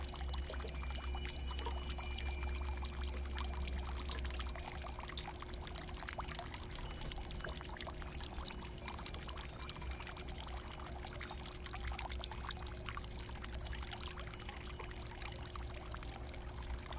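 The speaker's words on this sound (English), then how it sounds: "The spring water in the house pools remains a constant pleasure." Spring water pours steadily into pools inside a house in Japan's rural satoyama countryside, a continuous, even rush of falling water that holds at a constant moderate level with no voices.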